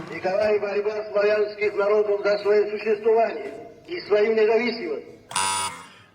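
A voice imitates a starling with strained, buzzing warbles and a final shrill squeak, delivered loud and close in a few bursts.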